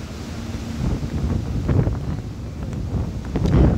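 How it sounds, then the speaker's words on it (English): Wind gusting on the East River waterfront in Astoria, Queens, a loud, steady rumble buffeting the microphone, swelling and easing over a few seconds with no one speaking. "Right now I'm on the East River"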